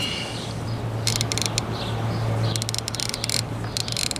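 A Harbor Freight ratchet with a fine-tooth mechanism and push-button release is spun, producing two or three quick runs of rapid, fine clicking over a steady low room hum.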